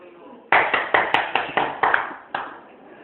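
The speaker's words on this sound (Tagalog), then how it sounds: "Bigyan natin si Arnante ng clap." A group claps in unison for Arnante during a classroom demo, about eight sharp, evenly spaced claps in a rhythmic pattern, close and loud, preceded by a low murmur of voices.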